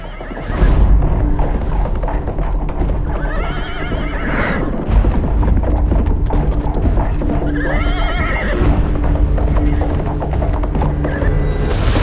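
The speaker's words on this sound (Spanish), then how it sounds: "Esos son los caballos del rey." The king's horses neigh and whinny loudly while hooves clip-clop steadily beneath, with deep booming thuds in a dense, dramatic scene; two long whinnies stand out over the constant rumble.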